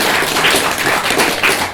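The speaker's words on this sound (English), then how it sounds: "Let's give Caroline a round of applause." Dense, steady applause from an improv theatre audience in Glasgow, a full room clapping continuously and close up with no talk over it.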